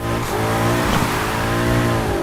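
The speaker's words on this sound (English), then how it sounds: "like a quick dip of the clutch to spike the revs while staying mashed on the throttle" Car engine revving hard and steadily while drifting in Need for Speed Heat, with clutch-kick rev spikes under full throttle, loud and continuous with rising and falling engine harmonics and a hint of tire squeal.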